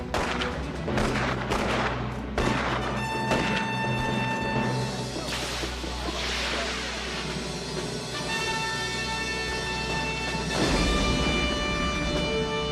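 Battle scene from the 1991 Civil War film Ironclads, with booming cannon and rifle fire, crashing impacts and roaring explosions layered over a continuous loud rumble, shouting voices mixed in.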